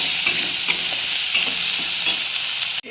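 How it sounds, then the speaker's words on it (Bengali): A spice paste with turmeric, cumin and chili powder sautés in oil with a loud, close, continuous sizzle and intermittent scraping stirs, ending in a sudden brief clunk. "হলুদ গুঁড়ো, জিরে গুঁড়ো দিয়ে আবার ভালো করে আমি মশলাটা কষে নেব।"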